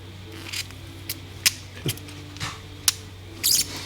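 Wire strippers work on electrical cable, giving a series of sharp, close mechanical clicks and snips spaced irregularly over a quiet background.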